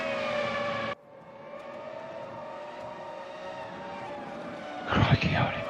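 An ambulance siren wails in a Formula 1 racing video game at Red Bull Ring, holding one steady tone before it cuts away to quieter engine noise and a short burst of car sound at the end.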